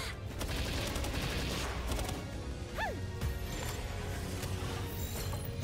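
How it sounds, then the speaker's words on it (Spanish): Grenade launcher fired in the video game Palworld, a steady dense barrage of blasts and crashing impacts under continuous game noise, with a brief rising whistle partway through. "¡Hala! Lanzagranadas. Lo estrenamos."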